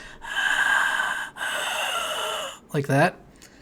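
A voice imitates whispery breathing: two long, airy breaths in and out, followed by a short voiced, gasping sound. Close and fairly quiet.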